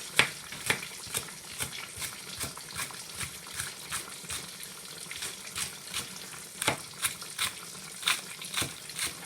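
Fish fries in a pan with a bubbling sizzle broken by frequent sharp spatters and pops in a loose, irregular rhythm, close and moderately loud with no voices.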